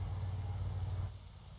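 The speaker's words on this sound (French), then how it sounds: "Avec la pluie, bien sûr." Rain falling in the cycling game Pro Cycling Manager 2021, a steady soft patter with a low background rumble that drops off and thins out near the end, with no talk.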